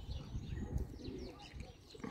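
Free-roaming pigeons in a garden coo softly in low, burbling calls, with a few higher chirps mixed in, under a murmur of nearby talk.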